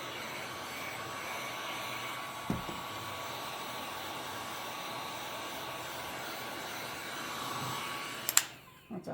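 A heat gun blows hot air across a loose stretched canvas to tighten it, a steady broadband whoosh lasting throughout, with a couple of brief clicks near the end.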